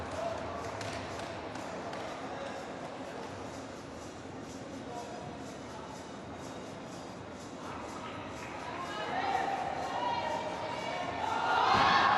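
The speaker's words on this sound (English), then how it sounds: "no wonder the crowd are cheering" Crowd at a gymnastics World Cup competition in Antalya, Turkey, with a steady arena murmur that swells into louder cheering toward the end, while commentators talk over it.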